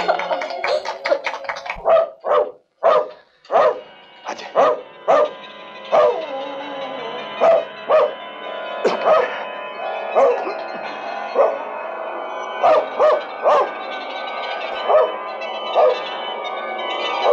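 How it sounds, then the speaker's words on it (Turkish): A dog barks repeatedly in short, loud bursts with brief pauses between them, sustained for a long stretch against a steady background. "Köpek."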